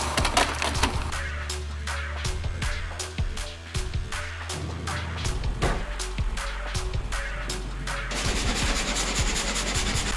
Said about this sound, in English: The machine handles the large log with firm precision